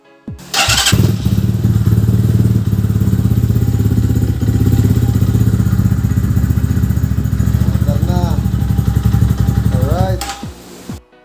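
A Kayo T4 dirt bike engine starts and runs steadily at close range for about ten seconds, a loud continuous throbbing idle with a few brief revs near the end.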